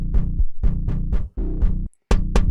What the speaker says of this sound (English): I'll throw this kick in.